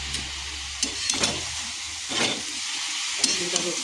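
Methi (fenugreek) greens fry in mustard oil with a steady hiss and sizzle. A few brief clinks and stirring scrapes sound near and close.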